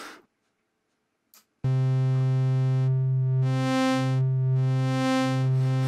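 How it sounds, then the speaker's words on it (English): After a brief silence, a loud buzzy complex square-wave tone from a Novation Peak synthesizer holds steady, brightening and swelling twice in a slow pulsing sweep. "There's a more complicated square wave."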